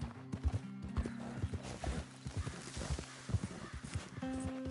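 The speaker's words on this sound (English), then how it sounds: "Careful with that horse, Arthur" Horse hooves clop in an uneven rhythm over a low hum, and a horse whinnies amid the clatter in Red Dead Redemption 2.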